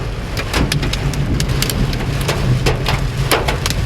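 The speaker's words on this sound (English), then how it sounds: "I heard a couple of hits on my car. Like small hail, not too much." Small hail and heavy rain pelt a car during a tornado-warned thunderstorm in Fort Worth, Texas: a steady close roar of rain broken by scattered sharp ticks of hailstones striking the body.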